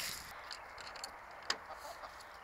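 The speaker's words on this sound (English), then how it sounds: "So these are Joey's little chicks" Young chicks in a farm pen give faint clucks and chirps at an evening farm. Steady outdoor background noise sits underneath, with one brief sharper sound midway.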